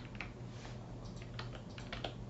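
Typing on a computer keyboard, a quiet, steady patter of key taps at close range with no talking.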